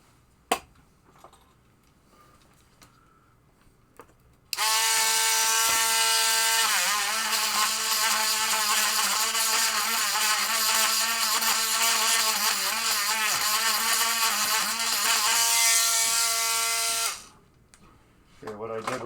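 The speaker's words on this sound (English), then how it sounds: "I just cleaned out the thing with a Dremel 443 bit" A Dremel rotary tool fitted with a 443 bit whines loudly and steadily for about twelve seconds while cleaning out a pinball machine part, its pitch wavering under load, with faint clicks before and after.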